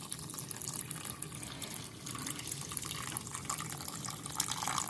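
Water poured over a small water well model to imitate rain or melting snow, a steady trickling and dripping splash running continuously at moderate level, close by, with no talking.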